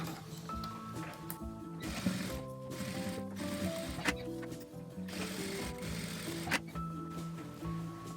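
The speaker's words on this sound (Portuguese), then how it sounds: "uma costura reta aqui, com a distância de um pé de máquina" Sewing machine running a straight seam one presser-foot width from the edge on a fabric toiletry bag, a steady mechanical whir with brief pauses and a few clicks, close and fairly loud, with no voices.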